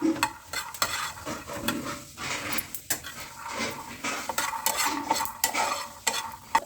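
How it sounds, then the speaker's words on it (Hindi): Peanuts dry-roast in a pan without oil, stirred with a metal utensil, giving repeated clattering scrapes and rattles over a light crackle, uneven in rhythm, close up with no voices. "तो मैं नॉर्मल मूंगफली को बस भून रही हूँ विदाउट ऑयल।"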